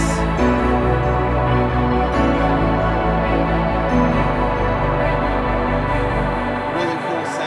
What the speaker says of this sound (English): The gated synth is a lot louder in this.